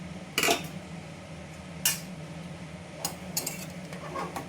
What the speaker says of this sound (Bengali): বন্ধুরা, কুকারটা ঠান্ডা হয়েছে, এবার আমি আপনাদের খুলে দেখাবো।